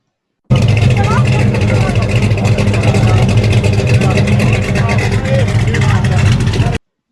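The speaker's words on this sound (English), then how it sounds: "That's a drag car." A drag car with a cammed pushrod V8 runs loud and continuous with a thick, rumbling, choppy idle, heard up close from start to finish.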